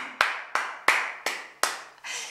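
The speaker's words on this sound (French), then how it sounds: "je vous applaudis" Five slow, separate hand claps at an even pace, close and clear, followed by a softer brushing sound, during a children's French alphabet song lesson.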